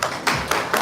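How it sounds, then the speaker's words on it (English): At a pageant press presentation, a few sharp, separate hand claps ring out in quick succession, brief and moderately loud, without a full crowd's sustained applause. "A big round of applause, please."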